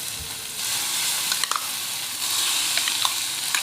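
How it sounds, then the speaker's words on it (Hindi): Hot oil hisses steadily on a tawa as goat liver (kaleji) fries, with a few soft clinks and scrapes of a utensil over the continuous close sizzle, and no talking. "अब हमने ये कलेजी जो है वो इस पर फ्राई करनी है पहले"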